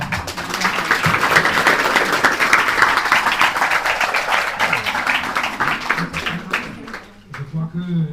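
Sustained audience applause at the official launch event for the Attitude mural in Mauritius, a dense steady wash of many hands that fades out near the end as voices take over.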